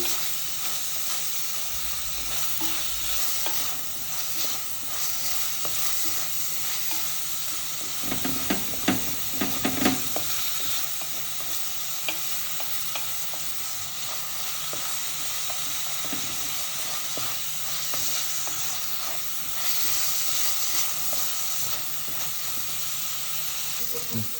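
Curry leaves sizzle and fry in a hot pan of oil for a quick fish curry, a steady close hiss with brief louder crackles and stirring scrapes partway through.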